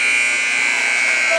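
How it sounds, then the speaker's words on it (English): A loud, sustained electronic buzzer sounds at the end of a period in an NCAA men's quarterfinal game, droning steadily without a break with faint crowd noise beneath. "as the buzzer's going to go"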